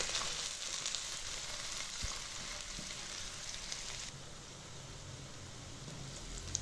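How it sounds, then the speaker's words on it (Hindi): Chopped onions fry in hot ghee in a pan, a dense, steady sizzle that fills the whole stretch close by, with a couple of faint knocks and no talking. "ये मैं घी में डाल के फ्राई करेंगे। तकरीबन 3 मिनट तक फ्राई करेंगे।"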